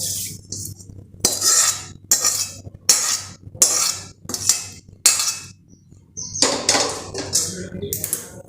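A spoon stirs cooled tempering of oil and asafoetida into spiced amla and chili pickle masala, producing loud, rhythmic scraping and clinking strokes against the vessel, roughly a stroke every second.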